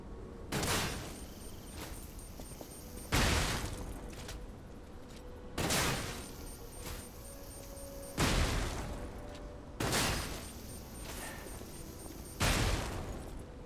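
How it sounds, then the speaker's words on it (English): The gun arm in Lies of P fires six evenly spaced heavy blasts, each a loud broadband crack with a short decaying tail, alone with no talk. "Gun arm time."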